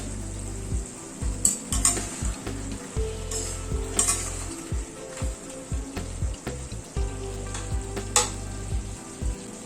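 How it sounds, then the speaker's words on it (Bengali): Chicken fries in a covered pan over a medium gas flame, sizzling steadily up close while bursts of stirring, clattering and metal clinks break in now and then. "এবার একটু ঢেকে দিচ্ছি চিকেনটা কুক হওয়ার জন্য, গ্যাসের ফ্লেমটাকে মিডিয়ামে রেখে"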